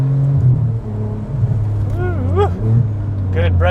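Ferrari 575M Maranello with F1 gearbox heard from inside while driving, a loud droning engine note that rises and dips with revs under a person talking.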